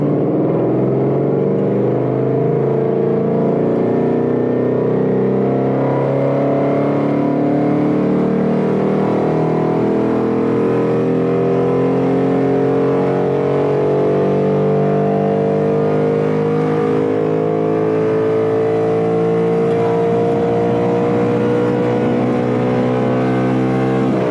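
Ford Mustang 5.0 V8 fitted with a Boss 302 intake manifold accelerates hard through second gear, a loud, steady, rising engine roar heard from close by for the whole stretch with no talk.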